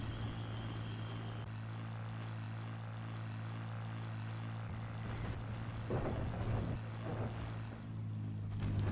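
Propeller warplanes flying in to attack in the naval combat game Battlestations Pacific, a steady droning engine hum with rising rumble toward the end, no talking.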